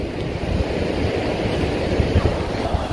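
Steady roar of sea surf and gusting wind at the shore during a mullet fishing outing, loud and continuous with rumbling low-end buffeting and no clear talk.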